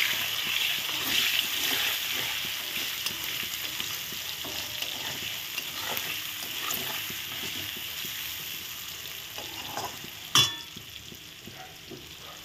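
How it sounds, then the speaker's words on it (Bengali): Potatoes and chopped onion frying in a pan while being stirred, a steady close sizzle with scraping and stirring clatter throughout and one sharp metallic clack near the end. "এখন আমি অল্প দিয়ে দিব পেঁয়াজ কুচি, দিয়ে ভালো করে নেড়ে দেবো।"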